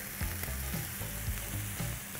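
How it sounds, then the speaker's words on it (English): Steady oily sizzling of Qureshi kebabs roll-frying in a pan, with a few soft scraping turns every half second or so; close and continuous, no voices. "We are literally rolling it and ensuring that it's getting fried on all the sides."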